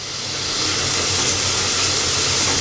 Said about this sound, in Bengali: দিয়ে দিচ্ছি পেঁয়াজ কুচি, কাঁচামরিচ আর হচ্ছে টমেটো। তা আমি একসাথে একটু ভালো করে ভেজে নিব।